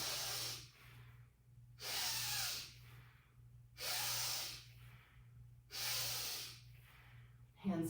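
Slow, deliberate breaths drawn in and pushed out through the nose during a qigong exercise, four long hissing breath cycles in a steady rhythm, close and clear over a low hum.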